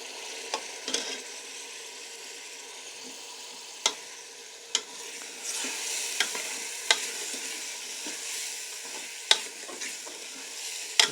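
Kidney beans (lobia) frying with onions in a pan for Kashmiri lobia give a soft, steady sizzle, with occasional sharp clicks and taps of a spoon stirring against the pan. No one talks.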